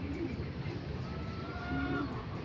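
Racing pigeons coo softly in a low, wavering murmur within a dense, steady ambient backdrop, with a couple of brief throaty calls rising faintly over the noise.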